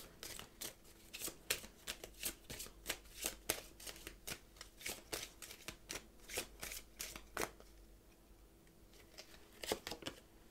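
Tarot cards being shuffled in rapid, crisp riffling bursts that repeat steadily for several seconds, then pause near the end before a final short flurry; close and clear with no talking.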